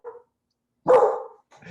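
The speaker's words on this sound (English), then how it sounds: "I just close the door while the dog is barking" A dog barks indoors in short bursts: a brief yap, a pause, then one loud sharp bark that trails off, followed by another starting bark, close and prominent with no talking over it.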